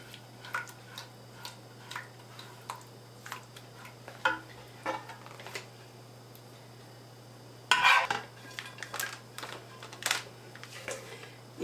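A utensil scraping and tapping inside a lasagna pan to get the sauce out, a run of light irregular clinks and scratches with one sharper metallic clatter, fairly close and with no talking.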